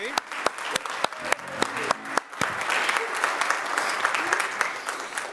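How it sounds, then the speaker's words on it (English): Audience applause at a Music Sunday gathering, a dense wash of clapping building and holding steady with a few sharp claps standing out near the start, some voices faintly mixed in underneath. "Now, I think you deserve a round of applause,"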